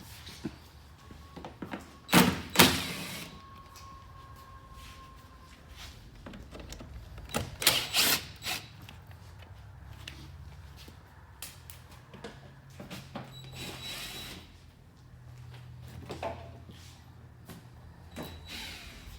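Screws and plastic clips are worked loose from a car's fender well, with sharp clicks and knocks of plastic and metal clustered in bursts between quieter stretches of low rustling and handling noise.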